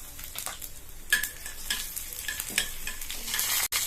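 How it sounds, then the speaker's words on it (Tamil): A mustard seed and curry leaf tempering sizzles in hot oil for a chutney while a spoon stirs it. The frying hiss is steady and close, with scraping strokes and small clinks against the pan. "தாளிப்பு போட்டுட்டு லைட்டா இந்த மாதிரி கலந்து விட்டுறலாம்."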